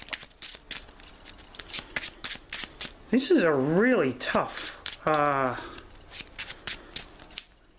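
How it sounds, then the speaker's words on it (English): Playing cards from a discard pile being shuffled during a Marvel Champions card game, with rapid repeated riffling bursts throughout, close and crisp, under and between stretches of speech. "I'm out of cards, so I have to shuffle my discard pile."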